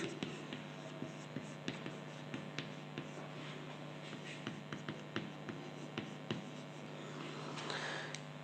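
Chalk or marker writing on a board during a physics lesson on electrostatics, giving a steady run of light taps and scratchy strokes over a constant low hum, fairly quiet and without talk.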